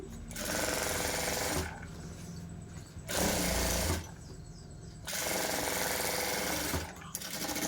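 A sewing machine running a dummy stitch on a blouse, in loud steady bursts of motor whir and needle clatter separated by short pauses.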